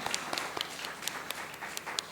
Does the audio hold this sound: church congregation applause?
yes